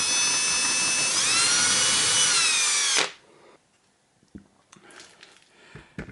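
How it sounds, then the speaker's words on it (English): A power drill whines steadily and loudly as it bores holes for M3 screws through a PCB, the pitch dipping under load before the motor cuts off abruptly, leaving quiet handling clicks and taps. "So I will just drill the holes as regular."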